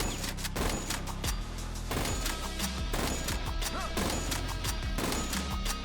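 Rapid gunfire in the video game BPM: Bullets Per Minute, loud close shots cracking in a steady rhythmic stream over thumping game music, with no pauses.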